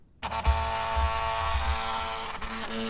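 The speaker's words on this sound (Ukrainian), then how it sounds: "підключаємося до свого принтера і натискаємо друк." AIMO T08FS A4 tattoo stencil printer starting up and running with a steady mechanical whir and low rumbling feed pulses, close and continuous for several seconds.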